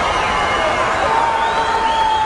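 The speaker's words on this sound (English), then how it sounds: "Crowd here in the Boston Garden giving him everything he needs from their standpoint." Wrestling crowd inside the Boston Garden roaring and cheering, a loud, continuous wash of massed voices with whoops rising above it, steady for the whole stretch.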